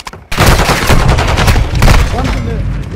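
Dense, loud gunfire from the video game Modern Warfare 2 pours out in rapid overlapping bursts after a brief quiet start, with faint voices mixed under the shooting.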